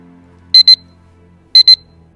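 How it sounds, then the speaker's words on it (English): An alarm clock beeping in two short double-beep bursts about a second apart, high-pitched and clear over a faint low background hum. "You heard the alarm go off."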